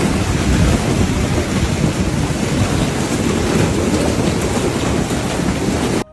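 A heavy hailstorm with pounding rain in Islamabad gives a dense, loud, unbroken roar of falling water and ice, with a low rumble underneath, until it cuts off abruptly at the end.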